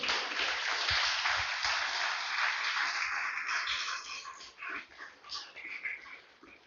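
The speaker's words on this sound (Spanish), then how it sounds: "Denle un fuerte aplauso al Señor, hermano." A crowd claps loudly in a dense burst of applause that gradually thins out, with a few cheers mixed in toward the end.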